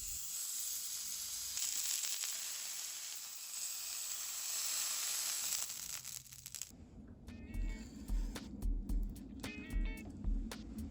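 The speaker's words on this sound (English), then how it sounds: "give it a nice sear on all sides of the beef, and preferably in oil with a high smoking point like canola oil" Beef searing in hot canola oil, a loud continuous close sizzle and hiss for several seconds, then giving way to a different stretch of crackling and clicking sounds.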